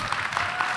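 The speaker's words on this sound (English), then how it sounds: "Big round of applause" Audience applause at a 2017 Minneapolis mayoral forum, a brief dense patter of many hands clapping at once, moderately loud and steady.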